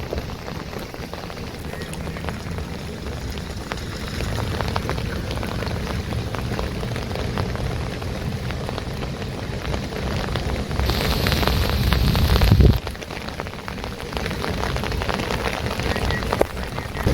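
Heavy monsoon rain pours steadily in Raigad during flooding, a dense, even hiss of drops on surfaces that swells louder near the end and continues without any voices.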